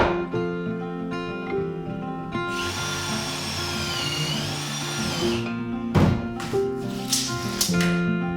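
A power drill drives screws into repurposed plank wood flooring in an off-grid tiny cabin, its motor whining loudly and rising and falling in pitch across several runs, with brief pauses and knocks between screws.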